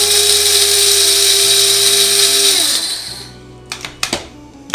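A pepper grinder crushes coarse black pepper with a loud, steady whirring grind lasting about three seconds, then fades and stops, followed by a few short clicks and rattles close by.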